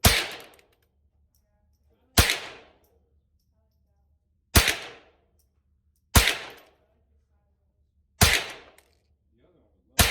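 Five sharp gunshots from a Thompson Center T/CR22 .22 rifle, each a crisp crack with a short decaying echo, spaced roughly two seconds apart, loud and close with near silence between.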